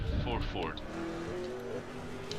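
A Ford V8 Supercar in a racing video game at Hidden Valley gives a quick rising and falling engine whine early on, then a faint, distant drone continues. The whole sound is quiet.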